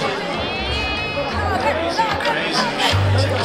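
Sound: college festival crowd chatter

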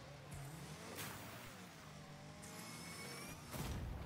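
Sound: car engine revving in a racing video game

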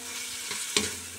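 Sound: sautéing tomato paste with bitter gourd in pan

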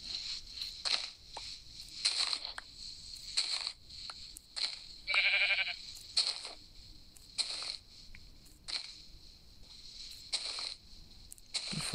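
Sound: sheep bleating in Minecraft video game

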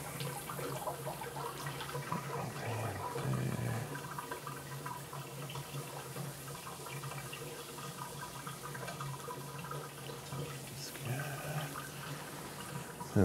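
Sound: water draining from a bathroom sink

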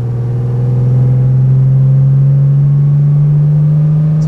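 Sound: 1953 Mercedes 300 S Cabriolet driving while warming up

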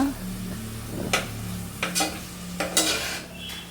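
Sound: millet being roasted and stirred in pan

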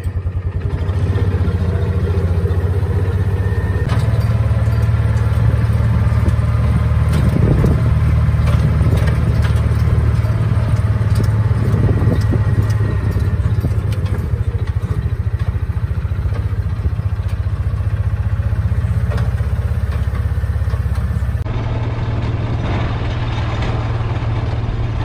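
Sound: Kawasaki Mule SX utility vehicle engine idling

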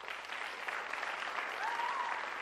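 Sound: audience applause for a performer

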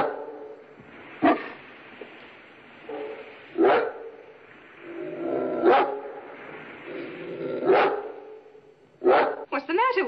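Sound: dog barking

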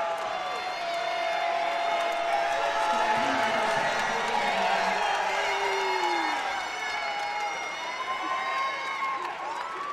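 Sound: wrestling crowd cheering

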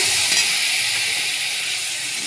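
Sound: ginger sizzling in a pan after water is added

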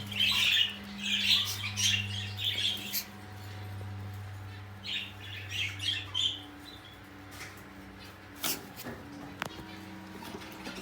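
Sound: cockatiel (Sultan papağanı) squawking

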